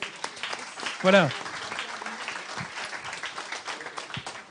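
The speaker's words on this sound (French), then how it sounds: "on peut les applaudir" Audience applause at a panel event on young people in rural European territories, steady clapping running under a host's voice, with a brief louder burst of speech near the start.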